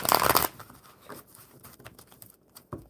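A deck of tarot cards being shuffled by hand, a loud riffle burst up front followed by softer, scattered card flicks and slides, close and with no voice over it.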